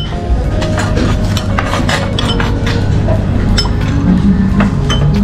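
Spoon clinking and scraping against a bowl of beef collagen soup in an Istanbul eatery, quick close metallic taps in an irregular stirring rhythm over a busy restaurant hum.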